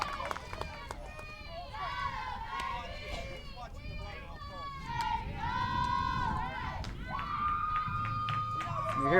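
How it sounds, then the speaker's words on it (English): Players in a college softball dugout, the Jefferson College Lady Vikings, cheer and shout together after a run scores. The voices are loud, sustained and rising, with a commentator talking over them. "You hear the cheering from the Viking dugout."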